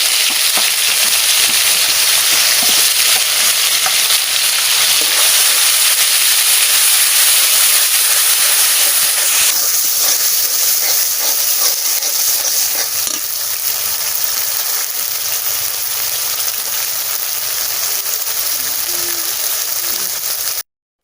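Ground spices sizzle in hot oil in a loud, sustained hiss, close by, with faint stirring movement and the frying easing slightly about halfway through.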